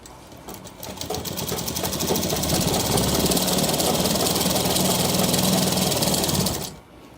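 A sewing machine stitches a shirt cuff in one steady, fairly loud run lasting several seconds, with a fast even motor whir and needle chatter that stops abruptly near the end.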